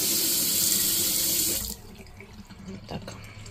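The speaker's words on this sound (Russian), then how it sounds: "раковина, горячая холодная вода" A hotel bathroom sink tap runs with a loud, steady rush of water, then shuts off abruptly midway, leaving quiet room tone and a few faint knocks.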